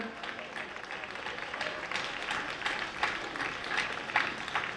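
Crowd at an outdoor pro-life march in Ljubljana applauds, a steady, moderately distant rustle of many hands clapping with faint voices mixed in.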